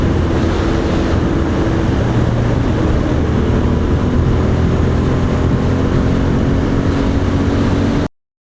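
A Royal Enfield Interceptor 650 motorcycle accelerating, with a loud, continuous engine drone heavily mixed with wind roar that runs without a break before cutting off abruptly.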